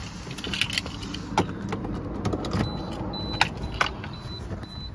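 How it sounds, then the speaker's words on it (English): Car keys jangle softly with small metallic clicks as they are handled and pushed into the ignition of a Toyota 2.2 D4D diesel, close by over a steady low background rumble. "Key in the ignition."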